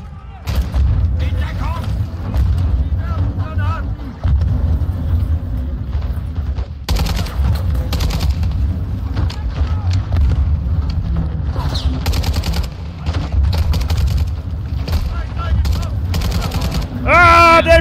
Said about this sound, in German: Beschuss!